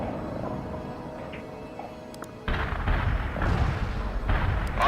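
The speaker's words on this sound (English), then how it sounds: "Artillery barrage hit for full effect." Artillery barrage landing in the strategy game World in Conflict: a sudden heavy blast opens a sustained, rumbling wall of overlapping explosions and crackling impacts, loud and dense, following a quieter stretch of background battle noise.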